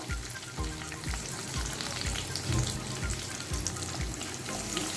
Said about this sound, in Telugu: ఇప్పుడు నేను పెరుగు దీంట్లో పోస్తున్నాను